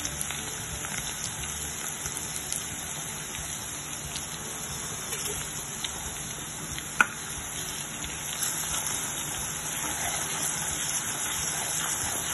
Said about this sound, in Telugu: ఇవి బాగా వేయించుకోవాలి.